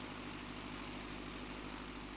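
Aerosport Scamp light aircraft engine with a Hoffman propeller cruising at about 2,800 revs, a steady, even drone with a low buzzing hum, continuous and fairly faint.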